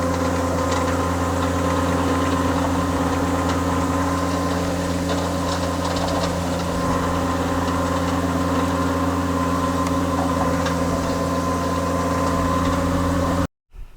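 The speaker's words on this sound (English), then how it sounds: "You hear the engine idle down" The engine of a Hyrax 27.41 compact tracked lift idles with a steady, unchanging drone that holds throughout, then cuts off abruptly near the end.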